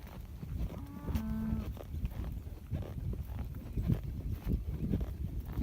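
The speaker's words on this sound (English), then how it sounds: "We're going to try to move these cattle to a different pasture." Red cattle being moved to a new pasture by a rider on horseback, with a few low moos, hoof clops and shuffling in a quiet outdoor morning, fairly faint.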